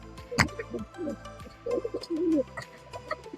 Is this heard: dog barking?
no